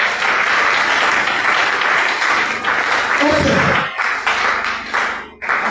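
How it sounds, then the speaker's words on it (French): A church congregation claps and cheers in sustained, loud applause, with voices calling out through it before it tapers off near the end. "Acclame la parole du Seigneur Jésus."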